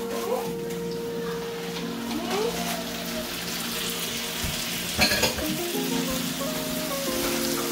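Codfish hits a frying pan with onions and tomatoes, and the sizzle swells into a moderate, close frying hiss with utensil stirring and a few clatters.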